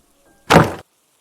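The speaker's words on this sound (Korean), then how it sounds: "더 듣지 않고 그대로 문을 닫아버렸다." A single solid thunk of a door being shut, a close and clean audio-drama sound effect with near-silence before and after.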